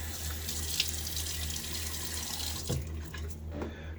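A bathroom tap runs steadily into a sink as water is splashed on the face before a wet shave, a close, continuous hiss with a few splashes, tapering off near the end.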